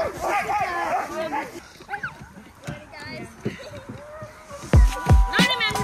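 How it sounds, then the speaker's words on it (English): Huskies bark and yip close by at a winter husky farm in Finland, with sharp repeated barks and whines, the loudest near the end, while people talk nearby. "we're heading over to see the huskies"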